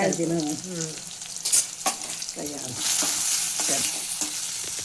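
Curry leaves sizzle in a hot pan while rasam upma cooks, bright crackling frying noise with stirring scrapes and clatter, fairly close, broken by short bursts of tonal clanks and louder spitting toward the end.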